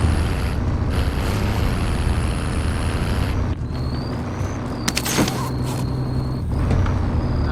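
A car driven in Call of Duty Warzone, a steady engine and road rumble running throughout with a few brief creaks and clunks midway, loud and close, no talking.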